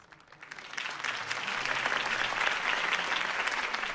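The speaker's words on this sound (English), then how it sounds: "If only Mr. Wayne, my campaign's largest backer, could have heard that applause" Crowd applause follows a campaign speech in a Batman video game scene, rising quickly into steady, dense clapping that holds at a moderate distance throughout.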